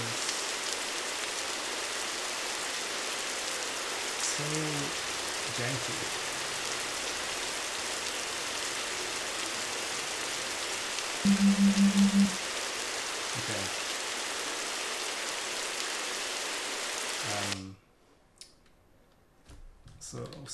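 Synthesized rain from a Flutter white-noise app on a computer, a steady hiss of rainfall held for most of the stretch before cutting off abruptly near the end, with a person talking over it.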